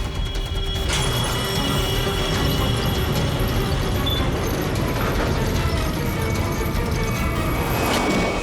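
A door swings shut on its own at a murder scene in a crime drama, heard as loud mechanical clattering and a ratcheting latch over busy dramatic background noise, with no voices.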